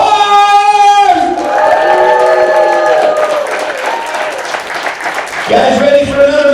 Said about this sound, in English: Let me hear a round of applause for the United States